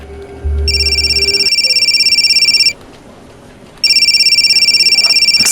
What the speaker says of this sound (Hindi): मेरी मम्मी का फ़ोन है, क्या मैं ले सकती हूँ?